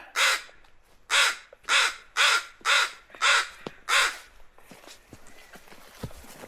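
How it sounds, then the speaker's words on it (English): Crows caw loudly and close in Taku Harbor, Alaska, with seven harsh calls in a steady rhythm followed by quieter footsteps and small rustles. "yes, the crows are very upset"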